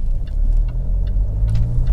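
Jaguar XF 2.2 automatic diesel saloon on a road test, its engine and road noise a steady low rumble close by, with faint higher noise drifting over the hum.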